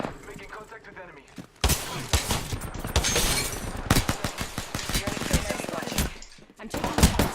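Gunfire from the video game Apex Legends, including a Mozambique shotgun, cracks in dense bursts of sharp, loud shots with scattered impacts and clatter for several seconds.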